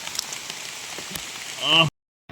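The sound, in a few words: heavy rain pouring down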